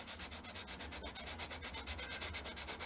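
Sandpaper rubbed back and forth over a balsa wood guitar body coated with super glue, fast, even rasping strokes close up, about eight per second, with no talking.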